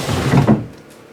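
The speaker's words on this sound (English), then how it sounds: "So let's test fit this drawer and see how it looks." A handmade log drawer slides into a cabinet in an off-grid Alaska log cabin, giving a short, close wooden rumble and knock that fades within about a second.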